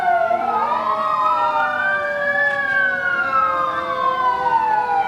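An antique fire engine from the Hudson Fire Department wails its siren in the 1998 Hudson Booster Days parade. The siren is loud and close, sweeping up and down in pitch over a steady engine rumble.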